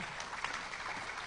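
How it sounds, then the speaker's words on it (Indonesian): Short burst of audience applause at an Indonesian political talk event, a dense hiss of clapping that stays even and moderately loud throughout. "Tepuk tangan buat Pak Fadli."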